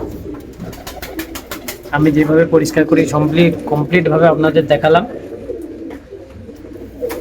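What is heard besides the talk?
pigeons cooing in a breeding room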